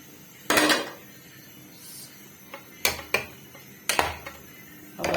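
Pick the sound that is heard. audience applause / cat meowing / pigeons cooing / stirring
stirring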